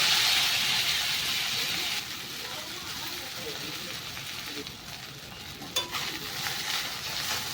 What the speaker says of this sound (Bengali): আটার চাউমিনগুলোকে একটুখানি ভেজে নেব